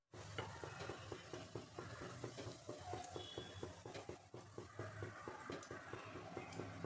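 Anarsa, a rice-flour sweet, frying in hot oil, a steady close sizzle with rhythmic stirring or scraping pulses running throughout, fairly quiet and with no talk.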